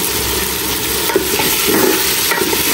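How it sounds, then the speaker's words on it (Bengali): Potato and papaya pieces frying in oil, with a steady loud sizzle and occasional scraping stirs throughout. "আলু আর পেঁপেটা একটু আগে কষাই নিলাম।"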